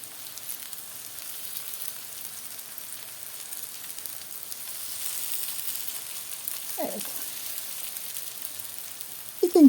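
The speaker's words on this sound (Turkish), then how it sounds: "İkinci tavada karnabaharları da kızarttım." Cauliflower florets fry in hot oil in a second batch in a pan, giving a steady, soft sizzle throughout, with a brief spoken word and a couple of handling sounds near the end.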